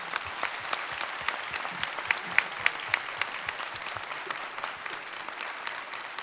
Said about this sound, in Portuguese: Vamos bater uma salva de palmas para eles